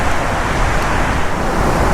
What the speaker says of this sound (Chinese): 哇，看这个瀑布